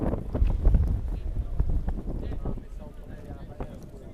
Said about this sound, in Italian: tale è il vento che spira qui al Ciriaci.